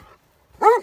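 A dog gives one short, close bark in a mountain pass setting, a single sharp yelp at the end of a near-silent moment.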